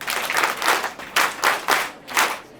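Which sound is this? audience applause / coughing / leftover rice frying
audience applause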